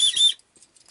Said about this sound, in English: And you also have a whistle which you can detach. So I'll leave it on for now. I'll give it a quick blow.